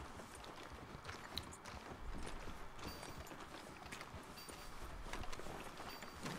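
A horse's hooves clip-clopping in Red Dead Redemption 2, a quiet, steady run of hoofbeats over faint background noise, with no one talking.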